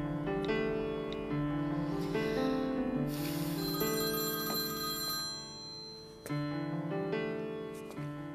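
A telephone rings steadily with an incoming call, a repeating electronic ring tone that plays on alone, loud and near, with no talk.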